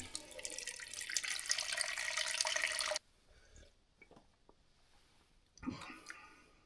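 Water from an Itehil water purifier pours into a 5-gallon bucket, a steady hissing stream for about three seconds that stops abruptly, leaving quiet room sounds and a faint voice-like rustle near the end.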